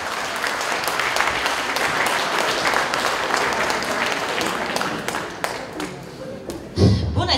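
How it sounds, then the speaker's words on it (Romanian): Audience at a village Men's Day celebration applauds, loud sustained clapping throughout with a few sharp thumps and taps near the end. "Vă rog aplauze!"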